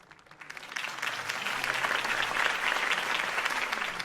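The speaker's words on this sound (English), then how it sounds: "If only Mr. Wayne, my campaign's largest backer, could have heard that applause" Crowd applause in the video game Batman: The Telltale Series follows Harvey Dent's campaign speech, swelling from a few claps into steady, dense clapping that carries on throughout.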